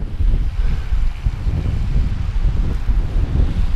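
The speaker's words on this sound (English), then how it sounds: "we're going to have a pretty strong headwind, about 20 mile an hour headwind" Strong, steady roaring wind buffeting the microphone while cycling into a headwind of about 20 miles an hour in the Lake District, a continuous low rumble throughout.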